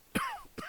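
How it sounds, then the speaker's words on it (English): A single short cough, close and fairly quiet, with a throat-clearing quality, followed by a second softer burst, heard alone without speech. "A little cough."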